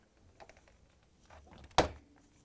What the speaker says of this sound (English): At this point, we're going to close the door.